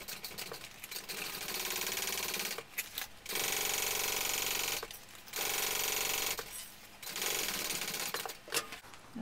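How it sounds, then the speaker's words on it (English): A sewing machine runs a basting stitch around clipped fabric on a mini backpack, in several sustained bursts of fast, steady stitching separated by short pauses, close and clear with no talk. "all I'm going to do is just do a basting stitch around where I've clipped"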